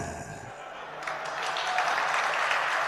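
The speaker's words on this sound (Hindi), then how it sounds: "सही है, आपने तालियां बजा दी" Audience clapping at a spoken Hindi discourse, rising from about one second into a steady, dense wash of applause that holds to the end, fairly far off in the hall.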